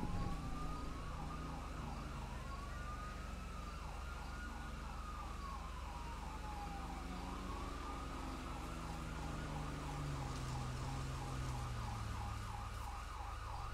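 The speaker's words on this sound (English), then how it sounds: "A lot of sirens." Several emergency sirens wail at once, overlapping rising and falling tones that carry on steadily from a distance over a constant low background rumble.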